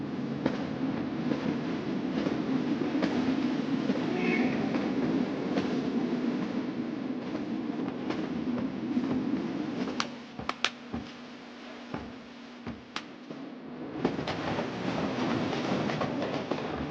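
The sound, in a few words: train ride, rolling train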